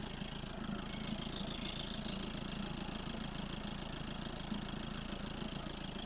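Audi A6 engine idling, likely a diesel given a cleaned DPF, with a steady, even hum and rumble holding constant and close for the whole stretch, no talk over it.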